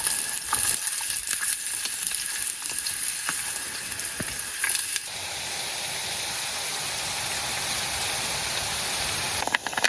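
Finely chopped onion and green chilli frying in a pan at an outdoor forest campsite, a steady close sizzle with stirring scrapes and clicks, with no voices.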